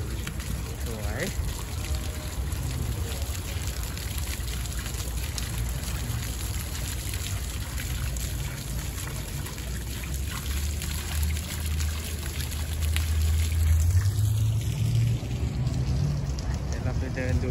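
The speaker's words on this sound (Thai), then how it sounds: "เช่นน้ำตก" Water pours and trickles steadily from a waterfall feature at an outdoor community mall, a continuous close wash with a voice talking over it.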